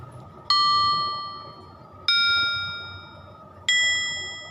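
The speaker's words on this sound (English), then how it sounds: "Glasses, tinkle." Three clear, ringing metallic strikes spaced about a second and a half apart, each bright tone lingering and fading before the next.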